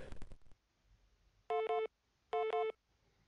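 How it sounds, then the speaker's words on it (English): A phone signal on a fax machine in The Pandora Directive: two short, loud, identical electronic tone bursts after a brief opening clatter, separated by quiet. "And a phone message from the sound of it."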